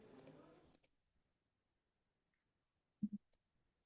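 Computer mouse clicks while a website footer menu is edited, a quick double click followed by another double click and a single click, crisp and close, with a brief stretch of faint voice at the start.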